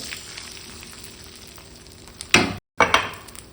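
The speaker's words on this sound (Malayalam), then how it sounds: "ഇതിലേക്ക് ഞാൻ 3 മുട്ട പൊട്ടിച്ചത് ഒഴിച്ചു കൊടുക്കുന്നുണ്ട്" Beaten eggs hit a hot pan of fried cashews and raisins, a sudden loud sizzling burst after low background frying hiss, cut briefly by a gap and then resuming as sharp crackling, close up with no talking.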